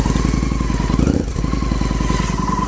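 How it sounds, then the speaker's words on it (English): A Victory Hammer S motorcycle idles close by, its exhaust giving a loud, steady, lumpy pulse with a brief blip of throttle partway through. "Listen to this, it's exhaust,"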